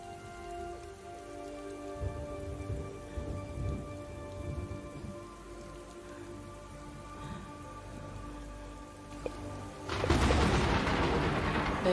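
Rain and thunder from a film scene: a low, rolling thunder rumble builds beneath tonal background music, then a sudden loud burst of heavy rain breaks in near the end.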